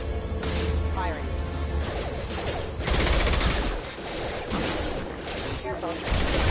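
Gunfire in the video game Mass Effect 2, with bursts of rapid shots and crashes layered over dense combat noise, while voices talk throughout.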